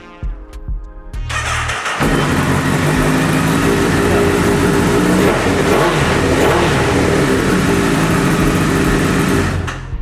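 A 1000 cc superbike fitted with an aftermarket Yoshimura exhaust fires up inside a showroom, then revs hard and loud close by with sustained rasping bursts that rise and fall, alone without talk.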